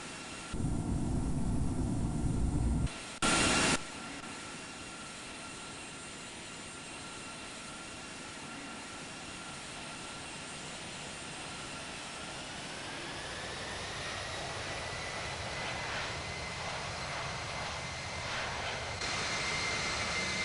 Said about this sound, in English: Qantas 701 Heavy, runway 16 right, cleared for immediate takeoff